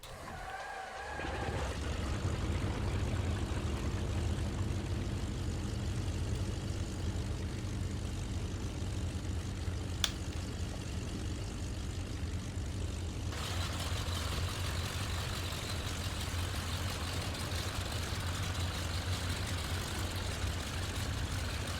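A Messerschmitt Me 108 Taifun propeller aircraft's engine catches after a brief start, then settles into a steady, loud idle that drones on close by with a constant low rumble.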